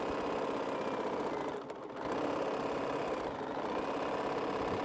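A sewing machine stitches a quilt strip with a steady mechanical hum and rapid needle chatter, briefly dipping for a moment before running on evenly.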